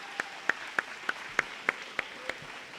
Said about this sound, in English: So a round of applause to our staff for setting things up.